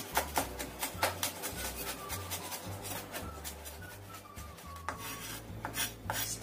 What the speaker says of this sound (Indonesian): Di sini aku punya 2 siung bawang putih. Ini kita cincang halus.